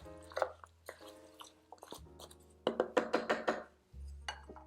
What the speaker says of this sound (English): So now we are just going to cover this up, stir it a little bit first, get all that stuff down in the broth